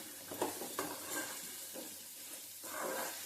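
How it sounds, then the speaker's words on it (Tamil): Onions sautéing over a low flame in a pan, a soft steady sizzle with intermittent stirring scrapes, fairly faint and close with no voices. "வெங்காயம் நல்லா வதங்கட்டும் லோ ஃப்ளேமில் வச்சு நல்லா வதக்கி விட்டுருங்க"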